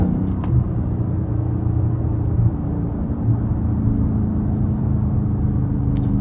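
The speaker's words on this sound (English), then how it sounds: "I'm gonna put it on sport for now, just so you guys can hear the whine better" A Dodge Charger Widebody Hellcat rated at 717 hp driving in sport mode, heard as a steady low engine rumble with a faint whine, continuous and close from inside the car.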